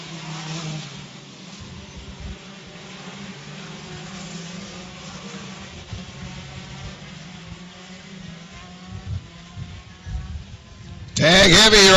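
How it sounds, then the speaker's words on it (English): Shifter racing kart engines rev and buzz at a kart track during a race-day event, a varying mid-distance engine drone under a trackside announcer's voice, ending in a sudden loud burst. "Try to get that kart fired up."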